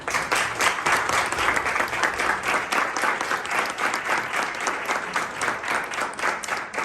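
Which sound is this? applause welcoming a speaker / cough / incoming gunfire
applause welcoming a speaker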